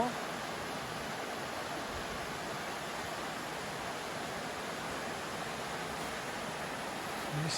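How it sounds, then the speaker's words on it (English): Steady broadband rush of a small waterfall beside a trail along the Linville River, continuous and fairly soft, with no voices over it. "A little iconic waterfall."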